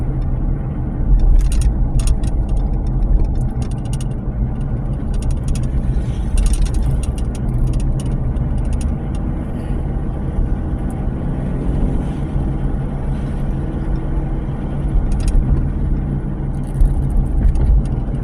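Car engine running while driving, a vehicle whose revs drop and which slips out of gear, heard as a loud, steady low rumble with faint rattles and ticks throughout, close and unbroken.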